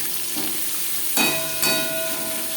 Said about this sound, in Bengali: ফোড়নের সাথে পেঁয়াজ বেশ ভালো করে মিক্স করে দেব।